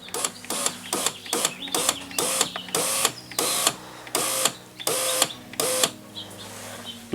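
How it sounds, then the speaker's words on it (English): The power window motor in a Mercedes W204 C-Class door raises the glass in about a dozen short, evenly spaced whirring bursts, each with a click, close and clear with no talking. "we're going to use the window switch to bring the window up"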